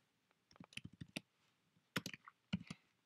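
Quiet, close computer keyboard typing comes in short bursts of crisp key clicks separated by brief pauses, alone with no talking.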